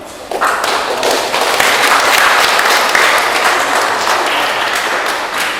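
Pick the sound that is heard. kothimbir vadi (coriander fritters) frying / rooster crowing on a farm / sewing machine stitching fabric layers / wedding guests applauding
wedding guests applauding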